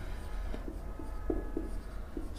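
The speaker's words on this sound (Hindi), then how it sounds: "यहां लिखेंगे हम" Chalk writing on a board in a classroom: faint, scratchy strokes arrive in a short irregular series under a steady low room hum.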